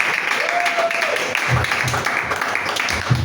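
A church congregation applauds and acclaims the worship group leader, M. André. The clapping is steady and moderately loud, with voices calling out over it.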